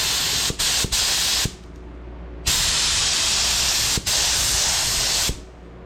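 A paint spray gun hisses loudly in bursts, a few short blasts and then a longer sustained spray, close up with brief clicks between.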